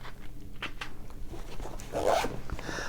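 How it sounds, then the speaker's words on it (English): A zipper on a pocket of a First Tactical 3 Day Pack tactical backpack being pulled open, heard close up as a steady rasping zip, with a few soft handling rustles around it and no talk. "there's a zipper pocket right along here"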